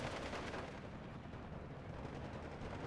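Battlefield gunfire from Steel Division 2, a continuous dense rumble of shots and artillery thuds with no distinct pauses, moderately faint and without voices.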